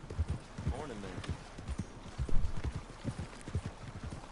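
Horse hooves clip-clop at a walking pace in Red Dead Redemption 2, close and rhythmic, with a brief whinny early on and a voice talking over the steps.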